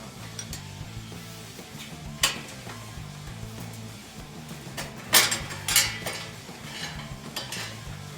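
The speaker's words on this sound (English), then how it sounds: "The next step is removing the front axle because it keeps the bike secure in the shipping frame." Metal parts clink and tick sharply as the front axle is worked out of a Coleman B200R minibike in its shipping frame, with scattered light taps and a low mechanical hum underneath.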